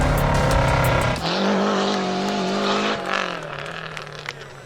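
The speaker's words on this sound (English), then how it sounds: "the Lancia Delta HF Integrale, which sounds pretty close to its real-world counterpart." Lancia Delta HF Integrale engine in the Test Drive Unlimited Solar Crown racing game, loud and close, revving hard then dropping to a steady drone with shifting tones, tire noise layered in, fading slightly toward the end with no talk.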